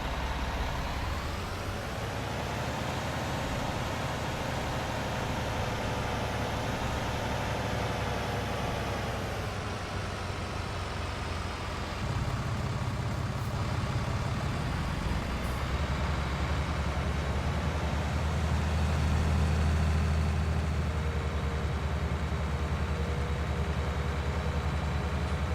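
Tractor engine in Farming Simulator 19 droning steadily at close range, a continuous heavy hum that shifts pitch as it speeds up and settles, with no voices over it.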